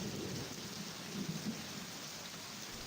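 Steady rain falls in a soft, even hiss with a low rumble of thunder rolling underneath, fairly faint and continuous throughout, no voices.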